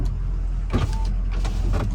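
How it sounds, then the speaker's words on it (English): Power windows on a Ford Excursion Limited 6.0L Powerstroke diesel 4WD, a motor whirring inside the cab in a few short bursts over a steady low background hum. "Windows all work."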